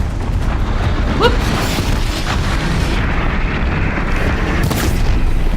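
Booming explosions fill a Horizon Zero Dawn fight, a sustained loud rumble with a sharp pop early on and bright bursts of blast noise later, no voices over it.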